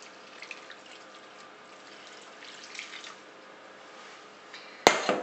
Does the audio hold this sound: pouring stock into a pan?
yes